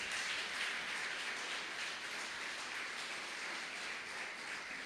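A church congregation applauding during a service, a steady, dense wash of clapping that holds evenly throughout with no break and no voices over it.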